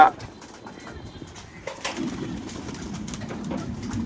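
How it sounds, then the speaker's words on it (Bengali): Soft, low pigeon cooing murmurs through a noisy background, with scattered rustling and a few sharper clicks. "খুবই সুন্দর একটা কবুতর"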